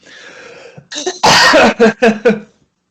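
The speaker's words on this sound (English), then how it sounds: "I'm just busy having a coughing fit" A single person has a coughing fit: a harsh throat-clearing rasp, then one loud cough followed by three quick, sharp coughs close to the microphone.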